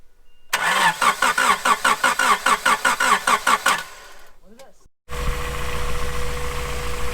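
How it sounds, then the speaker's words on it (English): A Honda XL250 dirt bike engine cranks over repeatedly in a quick rhythmic chugging, stutters, then catches and settles into a loud, steady running idle close by. "She is sounding pretty healthy, got it running, took a few tries, probably 4 to 6 tries"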